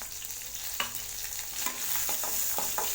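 Green and dried red chillies with a pinch of asafoetida sizzle and fry steadily in a hot pan while a spoon stirs them, scraping the metal in a few sharp, close clinks over the constant crackle.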